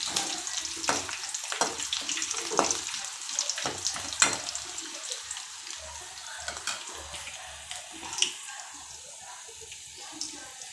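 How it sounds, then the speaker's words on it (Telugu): Beetroot and carrot fry in a pan with a tempering of urad dal, dried red chillies and curry leaves, making a close, uneven sizzle with stirring scrapes that fades gradually toward the end. "తాలింపు బాగా వేగనివ్వాలి"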